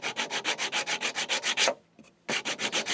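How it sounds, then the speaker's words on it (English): Sandpaper rubs pink paint off the ends of wooden dowels in quick, even back-and-forth strokes, close and loud, with a short pause midway before the regular rasping rhythm resumes. "sandpaper the ends down to get this pink paint off"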